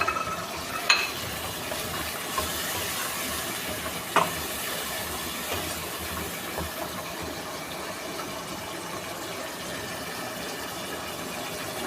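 Whole green chillies fry in hot oil for white chicken korma, a steady close sizzling hiss that stays even throughout, with a couple of faint clicks and no talking.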